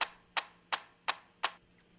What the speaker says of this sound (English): And I have this little clap loop here.